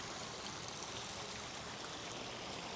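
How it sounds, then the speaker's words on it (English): A backyard recreation pond waterfall splashing over rocks into split streams makes a steady, soft rushing flow that stays unbroken throughout, with no voices. "We have a beautiful waterfall right here"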